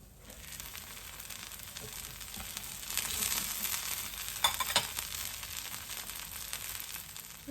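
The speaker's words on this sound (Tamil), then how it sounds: "ரெண்டு பக்கம் திருப்பி போட்டு தான் இந்த தோசை சுடுறேன்" Mint dosa frying on a hot pan gives a steady, close sizzle that swells louder midway with a few brief stirring or scraping accents, no talk.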